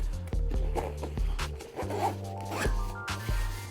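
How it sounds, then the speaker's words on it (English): Zipper on an Inateck X-Modo tech sling bag being pulled closed, a close, loud sequence of rasping zip strokes with short pauses between pulls. "I will zip this back up"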